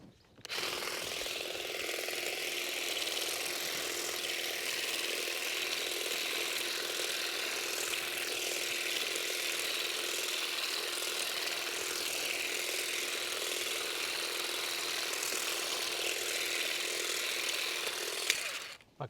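A STIHL HSA 26 battery grass trimmer edging a lawn, a continuous high whirring and buzzing hum with a cutting rasp, steady and close for the whole stretch, with no talking.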